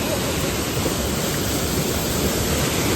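Vattayi waterfall near Thrissur in Kerala gives a loud, unbroken roar of rushing water, dense and steady throughout like heavy surf, with no voices over it.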